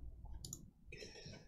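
Quick computer mouse clicks, a few close sharp ticks skipping ahead, alone without talk.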